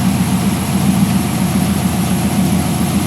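An LS V8 swapped into a Porsche 944 runs at a steady idle, a continuous loud low rumble with a faint high whine, close up and without talk.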